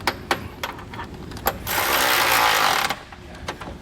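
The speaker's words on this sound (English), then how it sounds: "I'm going to use my 19 millimeter wrench on this side and come back with a 19 millimeter socket and tighten that into place." Bolt being tightened on a Roadmaster crossbar-style base plate kit with a 19 mm wrench and socket, heard as a run of ratcheting clicks and metallic taps with a longer steady mechanical whir in the middle.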